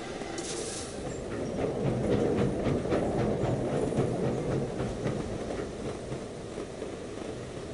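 In the video game Sid Meier's Railroads, a train locomotive rolls along with a steady, fairly loud rumbling rail noise and a faint repeating clatter, without a break.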